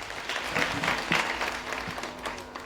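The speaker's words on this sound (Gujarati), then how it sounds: "ખૂબ બધી તાળીઓથી વધાવો બેચરભાઈ દેસાઈ" An audience at a cow shelter honour ceremony breaks into applause to welcome a speaker to the front, a sustained, even wash of clapping from many hands at moderate distance.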